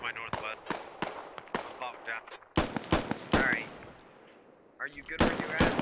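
Rifle gunfire in the military shooter game Squad, a run of sharp sudden cracks and bursts at varying distances, some loud and close, with a short quieter gap in the middle before the shots pick up again.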